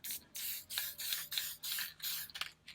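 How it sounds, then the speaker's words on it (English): Aerosol spray coat hissing over an alcohol ink art panel in short, repeated bursts of about half a second each, close and steady with brief gaps between passes. "That's all I do for my spray."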